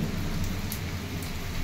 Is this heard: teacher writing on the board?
no